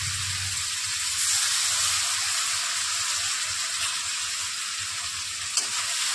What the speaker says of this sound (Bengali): এবার এটাকেও ভালো করে মিশিয়ে নিচ্ছি।